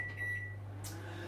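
A microwave oven hums steadily while heating golden syrup, a low constant drone close by with a faint click near the end, and no voices.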